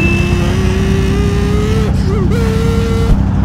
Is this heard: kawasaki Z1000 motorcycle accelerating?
yes